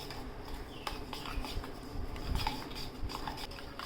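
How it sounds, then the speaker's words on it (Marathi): Salted cucumber salad being stirred in a bowl, a continuous busy clatter and patter of spoon against dish with a few sharper clinks, close and fairly quiet. "मीठ टाकलं आपण आणि याला हलवून घेऊया"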